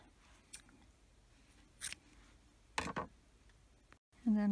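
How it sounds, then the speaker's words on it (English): Scissors snip yarn ends on a crocheted frog, a few quiet, brief isolated cuts spaced apart in a hushed room, with a short bit of speech at the very end. "then I'm going to trim those ends."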